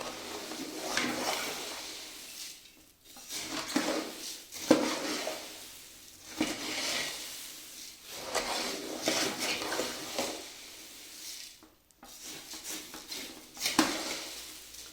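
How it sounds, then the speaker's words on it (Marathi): Spices being tossed and stirred into puffed rice bhadang for a spicy Kolhapuri garlic snack, with steady scraping and clinking of a spoon against a metal pot in repeated bursts, close and fairly loud with no talking. "हे बघा या पद्धतीनं हा सगळा मसाला जो आहे तो या भडंगमध्ये मिसळून घ्यायचा आहे आपण"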